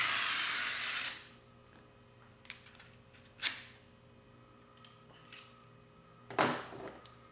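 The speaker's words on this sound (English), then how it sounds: "I'm using that Zacto blade." A sharp Zacto craft blade cuts masking film in a few brief, faint scratchy slices with quiet gaps, after a short burst of airy hiss at the start.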